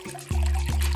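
Bottled water poured from an opened bottle into a measuring cup, a steady close trickle and splash that starts abruptly and carries on to the end.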